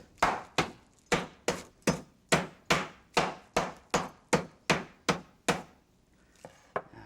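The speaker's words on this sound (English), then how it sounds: "so you don't really bruise it, it doesn't stick to the mallet, and just very lightly off to the side" A meat mallet pounds a pork chop under plastic wrap on a board, thirteen evenly spaced, firm thuds in a steady rhythm close up, then a pause and a couple of faint taps.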